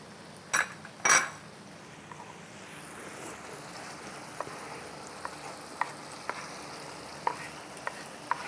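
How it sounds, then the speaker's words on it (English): Pepper frying in oil in a pan for a stir-fry pasta dish, a soft sizzle under two sharp utensil clanks near the start, then a quieter sizzle with light, scattered taps of a spatula against the pan. "So now let's fry our pepper."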